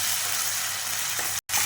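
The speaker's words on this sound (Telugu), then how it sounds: "ఒక స్పూన్ వేసి ఒక్క రవ్వ వేస్తాం. ఇది పచ్చి వాసన పొయ్యేంత వరకు వేయించుకోవాలి." Semolina (rava) frying in a pan with oil and ginger-garlic paste, a steady soft sizzling hiss that cuts out for a split second near the end before resuming.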